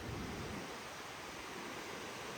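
Floodwater rushes under the Moosarambagh bridge in Hyderabad as a steady, hissing roar of fast-moving water, fairly faint and continuous, with no speech over it.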